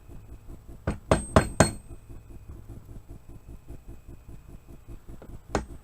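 A metal hammer strikes a punch driving a pin on an SKS rifle, three quick sharp metallic taps in a row followed after a pause by one more, close and clear over faint background hum.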